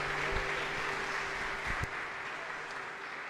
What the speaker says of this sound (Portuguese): A igreja pode aplaudir o nome do Senhor nessa noite